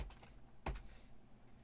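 A single sharp keystroke on a computer keyboard, close and fairly quiet, standing out from a soft background with a few fainter clicks around it.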